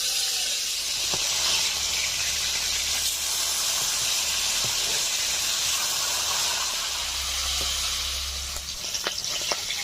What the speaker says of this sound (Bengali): আমি এখন উল্টা ভালো করে ভেজে নিচ্ছি।